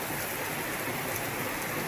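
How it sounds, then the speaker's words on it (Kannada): Light rain falling at Kukke Subrahmanya temple town, a steady even hiss of drops on surfaces, continuous and unbroken with no voices. "ಇದೇ ಸಂದರ್ಭದಲ್ಲಿ ಮಳೆಯ ಸಿಂಚನ ಆಗಿರುವುದು"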